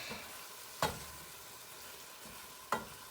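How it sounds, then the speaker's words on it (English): Onions being stirred in a non-stick pot on the stove, with two sharp scraping strokes of the spoon standing out against a quiet, steady background. "I stir up my onions."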